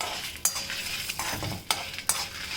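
A few red chilies roasting in about half a teaspoon of oil over low heat, a steady soft sizzle broken by several sharp scrapes and clinks of a stirring utensil against the pan, close and without talk.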